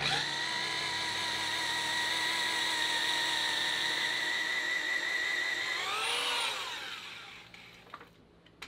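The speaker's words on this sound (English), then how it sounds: "like drilling lead" A drill boring long keel-bolt holes through hard antimony-lead ballast on a wooden boat keel runs as a loud, steady whine with a brief pitch swoop near the end before winding down and stopping.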